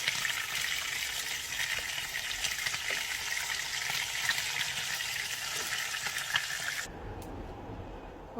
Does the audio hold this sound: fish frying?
yes